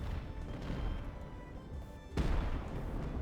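A single heavy mortar shot from Ultimate Admiral: Age of Sail during the siege of Toulon booms out once, following a stretch of low rumbling battle ambience.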